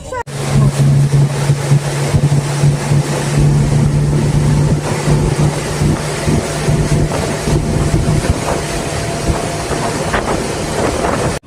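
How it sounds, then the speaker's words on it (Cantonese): A small passenger ferry on the short crossing to Wong Shek Pier in Hong Kong: a loud, continuous engine drone with a steady low hum and churning water noise, with voices faintly mixed in. "好，坐船走啦。 去黃石碼頭啊。"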